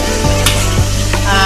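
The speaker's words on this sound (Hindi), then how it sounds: "तेल में पहले हींग का तड़का लगाया है" Asafoetida tempering sizzles in hot oil while palak paneer is being cooked, a loud steady frying hiss close by, with brief scraping stirs of a utensil through the pan.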